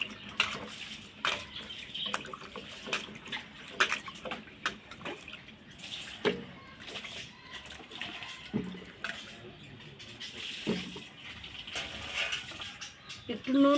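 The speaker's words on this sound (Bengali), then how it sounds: "আলু একটু ধুয়ে নিব।" Tap water runs steadily while potatoes are rinsed in a home kitchen, with scattered splashes, drips and clatters close by throughout.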